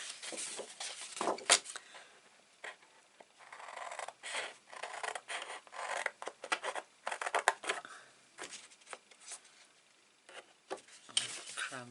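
Quiet snips and rustling as card is cut by hand for a shadow box craft, scattered irregular scissor cuts and paper handling, close and soft with no talking.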